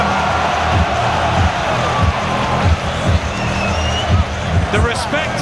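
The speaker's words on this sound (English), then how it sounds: "listen to the crowd loving this heavyweight spectacle here at Wembley Stadium" A huge stadium crowd at Wembley roars through a heavyweight boxing bout, a loud continuous swell with rises and surges, while a commentator talks over it.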